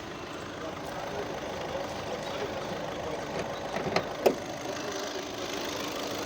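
A 2019 Volkswagen Ameo Trendline 1.5 TDI diesel engine idling, a steady close rumble with a slight knock and a couple of brief louder clatters near the end.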